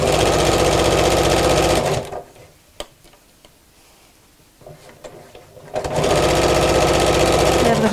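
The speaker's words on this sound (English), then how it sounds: "So I'm just making sure I'm folding that out as I'm sewing it." A sewing machine top-stitches a zip onto a backpack in two loud, close runs of rapid, even needle chatter, with a pause between them filled with soft handling clicks and rustles of fabric.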